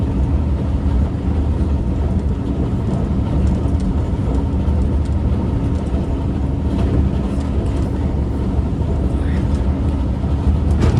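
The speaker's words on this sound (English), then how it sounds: "There's Caltrain 421 passing us" Caltrain 421, a northbound limited-stop commuter train, rushes past alongside a moving train in a steady, dense rumble heard from inside a southbound express carriage.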